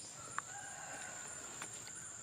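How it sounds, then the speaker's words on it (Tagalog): A rooster crows faintly in the distance against quiet outdoor background noise, with no one talking. "May mga tilaok ng manok din."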